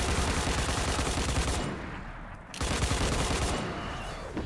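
Light machine gun fire in Destiny, dense rapid bursts of automatic shots with a brief pause midway before the volley resumes, moderately loud and without talk.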